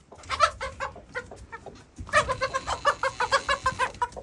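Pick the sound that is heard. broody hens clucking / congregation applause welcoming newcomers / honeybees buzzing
broody hens clucking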